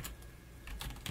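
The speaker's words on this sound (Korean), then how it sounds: "SQL 쓰겠다고 이렇게 타이핑을 쳐주고요." Quiet keystrokes on a computer keyboard, a few quick taps clustered at the start and a short run of clicks near the end, faint and close with no voices.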